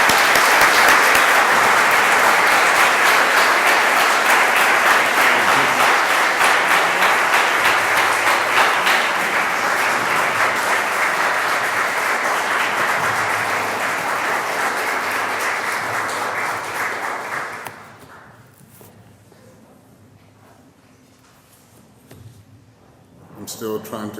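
A loud, dense wave of audience applause at a poetry reading welcomes poet Yusef Komunyakaa, sustained for about eighteen seconds before fading abruptly into quiet room tone and a faint rustle.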